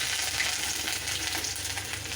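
Whole cardamom, cinnamon and chopped ginger sizzle steadily in hot oil in a pan, a continuous close crackle with faint stirring and no voices.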